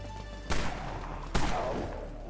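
Two sharp, loud rifle shots from the Vindicator in the video game Dead Frontier, spaced under a second apart, each with a short echoing tail over a steady low hum.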